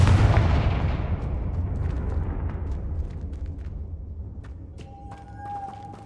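A Confringo spell explodes in a Harry Potter video game: a loud, deep boom that rolls and decays over several seconds, followed by faint scattered crackles and a thin tonal ring near the end.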